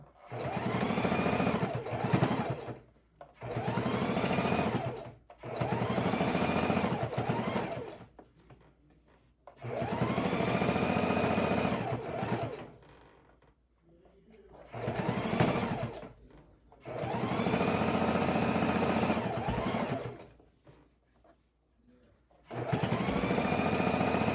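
A sewing machine stitches fabric for a soup bowl cozy, running in steady close bursts of several seconds each, separated by short pauses, with no talk.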